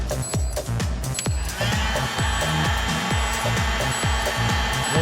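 Heat gun blowing steadily on a damaged vinyl floor plank, a continuous close airy whoosh with repeated light tapping and handling knocks over it.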